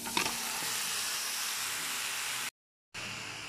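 Chicken sizzles loudly in a hot pan with garlic, onion and ginger, a steady frying hiss with a brief stirring clatter near the start and a short silent gap before the sizzle resumes.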